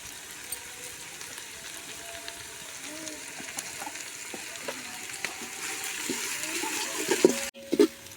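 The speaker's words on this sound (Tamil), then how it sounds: "வெங்காயம் நல்லா பொன்னிறமாக சிவந்து வர வரையும் நம்ம நல்லா வதக்கி விடணும்" Onions frying with salt in a pan for chicken biryani sizzle steadily while being stirred, with scattered scrapes and clicks. The sound grows busier toward the end, then a sharp clatter and a brief pause.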